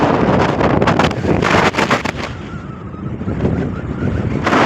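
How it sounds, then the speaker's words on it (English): Strong wind buffets the microphone in loud, rumbling gusts at a lookout in outback Coober Pedy, Australia, heaviest early on, easing briefly, then roaring again. "It's so windy up here"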